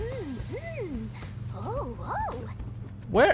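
A dog in the room whimpers and yips in a series of rising and falling whiny cries, ending in a sharper yelp, while a person speaks briefly in the background.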